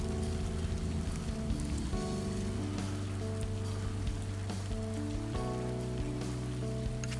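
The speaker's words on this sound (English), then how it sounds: "I can hear the raindrops on the leaves or the trees." Raindrops falling on leaves and trees during a thunderstorm in the California Bay Area, a steady dense patter heard close outdoors, with a low hum running underneath and no speech.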